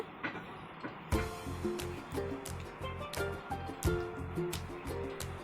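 Domestic sewing machine stitching blouse fabric at a tailoring table, a rapid mechanical patter of needle strokes in short repeated bursts, close and fairly loud, with no voices.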